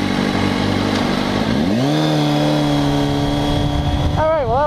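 A Kawasaki 636 sport motorcycle engine idles loudly up close, then revs and climbs in pitch as it is accidentally shifted into second gear and holds a steady buzzing drone, with a wavering whine at the end.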